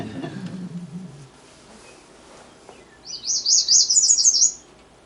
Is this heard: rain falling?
no